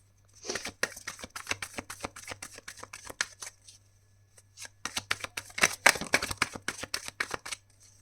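A deck of tarot cards is shuffled by hand in two bursts of riffling, each a dense run of crisp papery flicks, close and clear over a faint steady hum.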